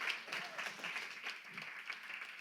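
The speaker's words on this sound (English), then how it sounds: "Clap it up for her." Audience applause greeting a guest brought on stage at a music business talk, a fairly faint, steady patter of many hands clapping that holds for the whole stretch with no voices over it.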